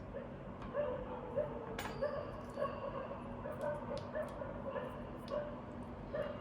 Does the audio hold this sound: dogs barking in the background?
yes